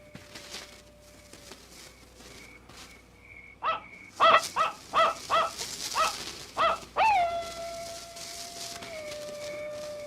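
A fake wolf or coyote howl sound effect from a Bigfoot movie: a faint tone, then a quick run of about eight sharp yipping cries, and finally a longer, drawn-out wavering howl that fades away.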